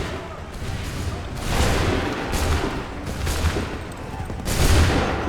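Musket volleys crackling across an Assassin's Creed III battlefield, several bursts of ragged gunfire in close succession with broad noisy blasts, loud and near over a continuous battle din.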